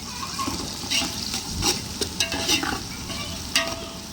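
Onions sauté in oil outdoors for a jeera samba mutton biryani, giving a dense, close sizzle. Spatula stirs and light metallic clinks against the pot punctuate it.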